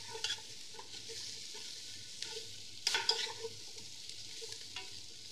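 A roux is stirred and lightly browned in a pan, giving a soft, low sizzle under repeated scraping strokes, with a sharper clatter of utensil against pan near the middle.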